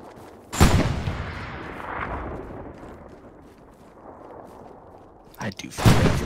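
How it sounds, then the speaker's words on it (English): An artillery cannon in the Hell Let Loose video game fires two loud, booming shots several seconds apart, each followed by a rumbling tail, with a low rumble of battle continuing between them. "I do feel bad for the person who has to reload that cannon"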